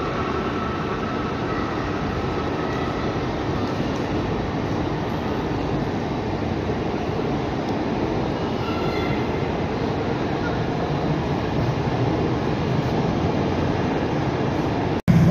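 Class 156 diesel train heard from on board, a continuous loud rumble of wheels and engine with faint rhythmic rail clicks, steady throughout until a brief knock at the end.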